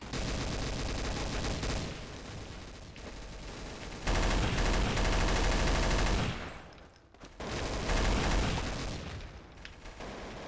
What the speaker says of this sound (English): the M249 strategy is just keep shooting